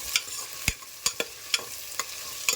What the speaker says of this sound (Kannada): ಸ್ಪೈಸಸ್ಸು, ಬಿರಿಯಾನಿ ಎಲೆ, ಈರುಳ್ಳಿ, ಹಸಿಮೆಣಸು ಎಲ್ಲ ಚೆನ್ನಾಗಿ ಫ್ರೈ ಆಗಬೇಕು